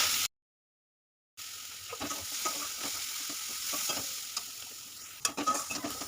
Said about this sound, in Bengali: অল্প জল দিয়ে মশলাটাকে আমি ভালো করে কষিয়ে নিচ্ছি